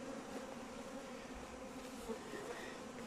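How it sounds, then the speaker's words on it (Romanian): Honeybees fly around a hive at an apiary, a steady, dense buzzing drone that fills the space at an even level, with no talk. "Ne mai uităm așa primul rând cum zboară albinuțile, la primul rând din spate."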